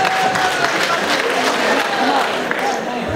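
Crowd applause at a gala accordion concert, a dense, steady wash of many hands clapping close and loud for about three seconds, tapering slightly at the end.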